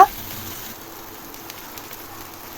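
Onion, garlic and ginger paste sizzles in a pan of fried cumin, a soft, steady hiss of frying that runs alone throughout after a brief louder burst at the start.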